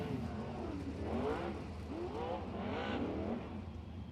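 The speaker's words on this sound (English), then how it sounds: "letting these guys get heat in the motors as they putt around the racetrack here" Several sprint cars of the High Limit Sprint Car Series idle and putt around the Wayne County Speedway track to warm their motors, engine notes rising and falling in overlapping sweeps as they pass at moderate distance, steady throughout.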